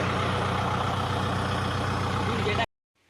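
A Kubota farm tractor's diesel engine runs at a steady, loud idle up close, then cuts off abruptly, leaving near silence.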